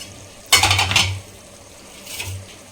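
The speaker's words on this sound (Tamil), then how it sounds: "மட்டன் வந்து எடுத்து சேர்த்துக்கிறேன்" Cooked mutton is tipped into masala in a metal pot and stirred, a sharp scraping clatter of spoon on pot for about half a second, then a quieter scrape, over a low simmer.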